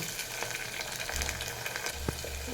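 Chopped onion sizzles in hot oil with a soft, even crackle over a short stretch. A low rumble sits in the background.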